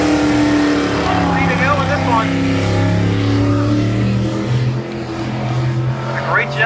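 Race cars roar around an oval track side by side heading into turns three and four, a dense continuous engine drone with shifting pitch and some tire noise, while a voice commentates over it.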